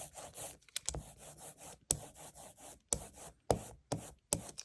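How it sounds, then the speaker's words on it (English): Rubber ink roller spun and rolled over a flat inking surface while preparing a block print, giving repeated sticky rolling passes in a steady rhythm with short pauses between strokes, close and moderately quiet. "And I'm spinning this roller so I get a nice even"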